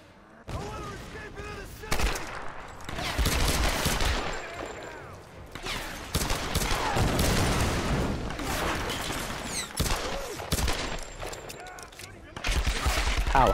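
Enemy gunfire in Tomb Raider Definitive Edition: rattling bursts and volleys of shots come in loud waves with brief lulls, and a player talks intermittently over the shooting.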